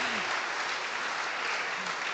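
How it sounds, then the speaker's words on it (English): An audience at an education awards ceremony gives sustained, even applause, a steady wash of many hands clapping at moderate distance, with a faint voice briefly audible beneath it. "if you want to clap, we can clap nicely"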